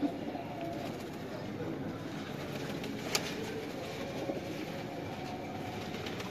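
Breeder pigeons coo softly in a loft in Gujranwala, faint low murmuring over a steady quiet background hiss, with one brief sharp click midway.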